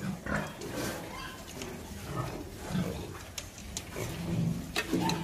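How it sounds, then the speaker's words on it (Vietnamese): A pig sick with pneumonia lies breathing heavily from the belly, with labored, uneven breaths and low grunting sounds repeating close by in a pen, and faint voices in the background. "Các bạn nhìn thấy nó nằm nó thở nè."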